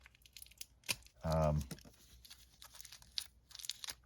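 Plastic wrap crinkles and tears as it is peeled off a Young Bucks wrestling action figure styled as Street Fighter's Ken and Ryu, with one loud half-second rip amid quieter rustles and taps, close by.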